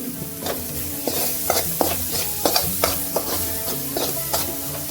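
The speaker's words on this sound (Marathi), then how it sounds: "अजून 2 मिनिटं ह्याला परतून देऊया" Pasta masala with red chutney and coriander being sautéed in oil in a pan, with steady sizzling and repeated stirring scrapes and clinks close by, no talking.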